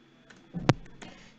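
A computer keyboard used to type a name: a few sparse, close keystroke clicks, one sharper and louder than the rest, with no voices.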